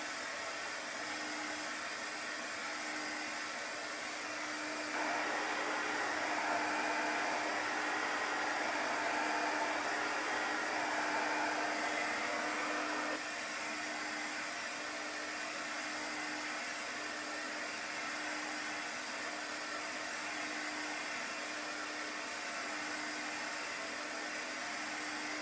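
A dryer blows steadily to dry paint on a Chalk Couture sled, a continuous airy whoosh with a faint tonal whine that runs throughout and grows slightly louder for a stretch in the middle.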